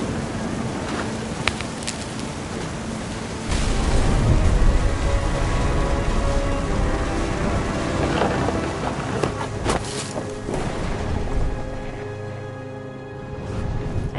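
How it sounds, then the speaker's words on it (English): Stormy weather in the video game What Remains of Edith Finch: steady rain and wind with deep rumbling thunder that swells louder partway through, under faint sustained tones. "Thunder sounded much too close and full of angry power"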